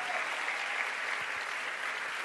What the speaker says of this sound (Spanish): ¿Cuántos pueden aplaudir al Señor por lo nuevo que Él va a traer?